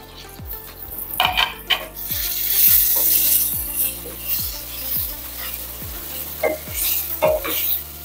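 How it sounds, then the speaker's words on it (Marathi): Masala pungali pieces stir-frying in a spiced masala with curry leaves, a steady sizzle under repeated scraping strokes of a spoon against the pan, close and fairly loud, no talk. "या मसाल्यामध्ये हे तुकडे 1 मिनिट छान फ्राय करून घ्यायचे"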